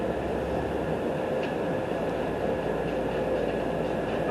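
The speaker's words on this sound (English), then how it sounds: "This monorail continues northbound." Las Vegas Monorail train running northbound, a steady close rumble and hum of rail travel inside the car that holds at an even level throughout, with no talking.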